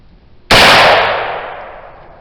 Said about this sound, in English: third and final shot of our silver maple black powder charcoal